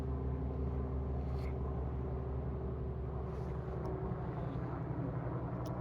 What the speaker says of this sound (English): Got another plane.